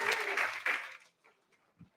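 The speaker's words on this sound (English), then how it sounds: "Give her a big round of applause." At a live charity auction, a crowd's applause after a sale bursts out loud and fades within about a second, leaving quiet with a faint thump near the end.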